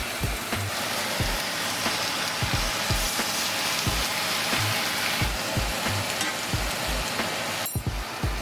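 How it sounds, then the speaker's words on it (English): Bacon strips sizzling in a hot pan, a steady crackling fry with repeated soft low thumps throughout and a brief sharper burst near the end, fairly close and with no voices. "Let's drop our bacon in."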